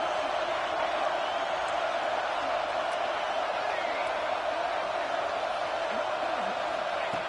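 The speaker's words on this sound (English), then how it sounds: "the crowd really making some noise now, trying to help out this defense to get this stop near the goal line" A dense stadium crowd roars continuously at a Texas A&M versus Notre Dame football game near the goal line, a loud steady wash of cheering with no breaks.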